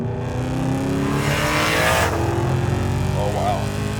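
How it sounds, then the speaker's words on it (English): A supercharged BMW E92 M3 accelerates hard, its engine rising in a loud, steady roar with a climbing whine over a low rumble, heard close by as voices talk over it. "Oh, but on the outside, it sounds heavenly. Oh, listen to that whine."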